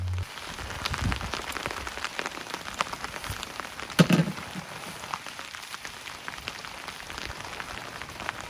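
Steady rain patters on a campsite at Polblue campground in Barrington Tops, a dense hiss of drops with scattered sharper hits and one louder knock partway through.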